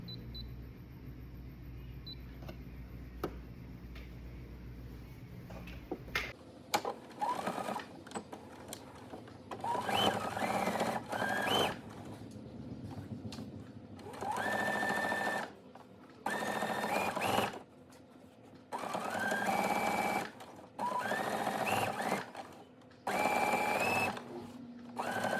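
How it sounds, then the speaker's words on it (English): A sewing machine top stitches a hoodie in several loud, steady runs separated by short pauses, close by, after a quieter stretch of faint background hum. "for top stitching, I'm just going to choose my favorite stitch"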